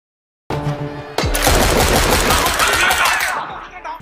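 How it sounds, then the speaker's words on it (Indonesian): In the Indian film Beast, after a short silence, terrorists in a hijacked mall fire a loud burst of rapid automatic gunfire that rattles on for a few seconds, then trails off. "tak lama kemudian terdengar suara tembakan oleh para teroris"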